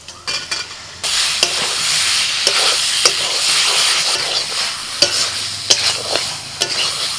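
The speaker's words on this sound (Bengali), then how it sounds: "মশলা ভালোভাবে কষিয়ে নিয়ে দিয়ে দিচ্ছি ভাজা আলু" Steady loud sizzling and frying as spices with a little sugar are sautéed with fried potatoes in a pan, with repeated sharp scrapes and clinks of a spoon stirring, no voices.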